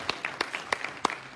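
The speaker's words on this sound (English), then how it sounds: "Everybody give Stoney a hand." Sparse, scattered hand claps from a church congregation at a Monday night worship service, a handful of separate claps spread out rather than a full ovation, fairly faint.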